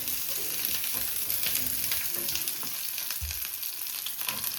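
Ingredients for a quick mushroom biryani frying in a pan: a continuous, fairly quiet hiss of sizzling oil with light crackles and occasional soft stirring scrapes throughout.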